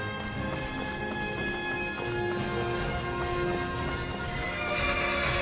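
A horse whinnies and its hooves clip-clop steadily in Skyrim, set against a constant game ambience with no talking.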